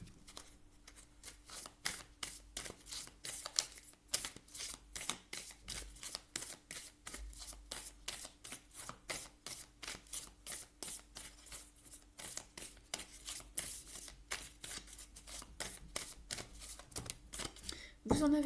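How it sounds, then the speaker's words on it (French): Oracle deck of sacred mothers and goddesses cards being shuffled, a long run of quick, crisp riffling flicks close by, steady and continuous, with someone speaking at points. "Je vais vous prendre une dernière carte de l'oracle des mères sacrées et des déesses sacrées de Claudia Olivos"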